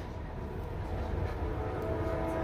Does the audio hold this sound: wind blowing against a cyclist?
no